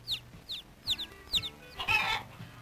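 Chickens cluck in short, soft bursts, several quick calls at a steady pace, fairly close with a quiet farmyard background.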